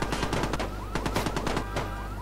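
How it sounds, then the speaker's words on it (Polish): Rapid bursts of gunfire in the video game Watch Dogs on Xbox 360, a string of sharp cracking shots in quick clusters, close and loud over a steady low game hum. "zaczynali we mnie strzelać"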